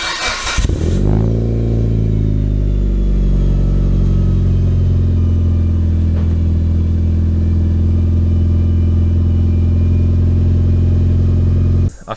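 Car fitted with a Hyperflow catalytic converter exhaust cranks and fires on a near-cold start, flaring up loudly and then settling into a steady, deep, droning idle close to the exhaust for several seconds before cutting off.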